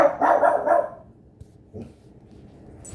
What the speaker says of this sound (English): The dogs were barking at somebody walking past the door.